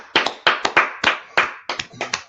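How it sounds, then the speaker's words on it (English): A small audience claps for a class, with about ten sharp, close hand claps in a loose, uneven rhythm and short gaps between them. "Let's clap it up for class, man."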